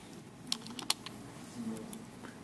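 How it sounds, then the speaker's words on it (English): Typing on a computer keyboard, a few scattered quiet key clicks with small gaps between them, close and soft over faint room hiss, no speech. "And then we're going to type."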